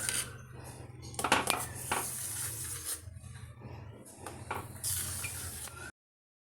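A hot semolina sweet is cut in a pan during a home full-moon puja, with repeated metal scraping and clinking of utensil against pan, loud and close, in uneven bursts over steady background hum.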